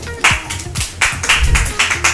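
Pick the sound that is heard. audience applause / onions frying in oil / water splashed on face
audience applause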